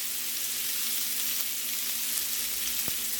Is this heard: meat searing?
yes